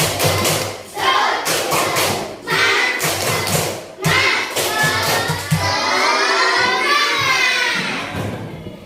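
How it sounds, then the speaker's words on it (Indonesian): A classroom of children performs a rhythmic spirit clap, with sharp bursts of clapping and thumping in a patterned beat and excited children's voices shouting and chanting along, then rising into sustained group chanting. "kita tepuk semangat dulu. Tepuk semangat."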